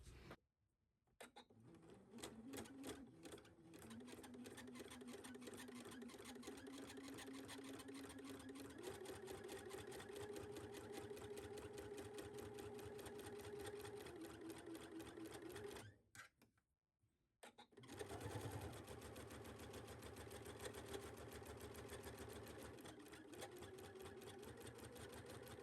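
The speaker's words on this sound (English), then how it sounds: "we are going to take this to our machine and shear across each of these lines" Sewing machine shirring across marked lines on a baby onesie bodice: a close, steady whirring stitch run with rising pitch, a brief pause and stop near the end, then stitching resumes.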